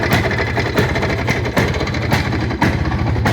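Close, loud idle of a Planeta 5 motorcycle engine, a fast, even mechanical chugging with regular exhaust pulses and a slight rattle, and no voices.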